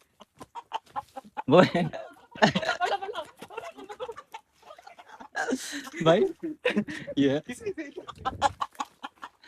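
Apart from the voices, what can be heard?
rooster clucking while being chased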